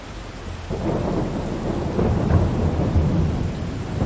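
A thunderstorm with steady rain in the video game Farming Simulator 22: a low, continuous rumble of thunder swells after the first second over a constant wash of rainfall, with no voices.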